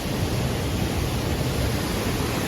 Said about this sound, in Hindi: आपको बैकग्राउंड में आवाज़ भी सुनाई दे ही रही होगी कि किस तरह से पानी जा रहा है।